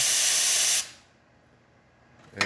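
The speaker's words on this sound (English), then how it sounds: "And we'll test the steam. Nice strong steam." Steam wand on a Rocket Mozzafiato espresso machine, being tested after a full service, hisses loudly and steadily for under a second, then cuts off abruptly, leaving near silence before a brief burst at the end.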